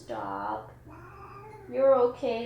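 A pet cat meows in a long drawn-out call, then gives two sharper, insistent meows up close, while someone speaks to her over the cries.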